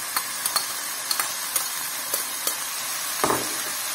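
Steady frying sizzle of half-ring sliced onions with meat in a kazan, with a rhythmic series of sharp scrapes and taps from stirring, close up, no speech.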